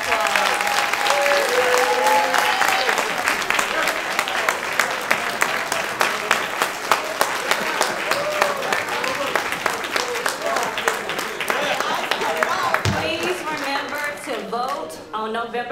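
Sustained, loud applause from an audience at a joint political forum in Liberty County, dense clapping holding steady throughout before thinning slightly near the close, with faint voices mixed in.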